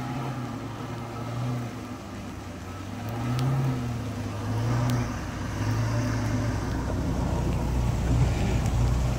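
Several 4x4 off-road vehicles grind through slick mud on a hillside trail behind Phu Thap Boek, Thailand. Engine drone rises and falls, loud and close and revving harder toward the end, with no talk over it.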